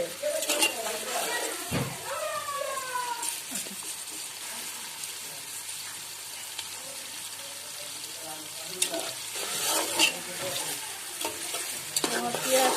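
Chicken biryani ingredients stirred and fried in a pan for a village-style desi chicken biryani, with steady sizzling and repeated scraping of a utensil against the pan, close and fairly loud, with a few brief voices in the background.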